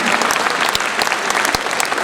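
Dense, loud audience applause at a stand-up comedy show in Delhi, steady clapping from a big crowd that keeps going without a break.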